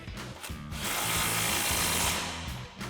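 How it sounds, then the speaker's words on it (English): An impact wrench with a 19mm socket hammers a nut tight on a Tacoma suspension lift install, giving a rapid rattling burst up close that runs for about two seconds between brief pauses. "we'll grab our impact, 19mm socket, and 19mm wrench and tighten that down"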